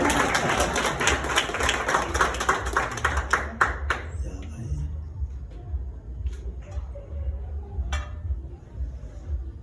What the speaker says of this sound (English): You can clap hands, you can clap hands.